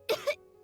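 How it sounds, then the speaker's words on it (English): A game character in Genshin Impact gives a short double cough, two quick close bursts within half a second, clear and alone with no talk. "He kept coughing all the time, just like me."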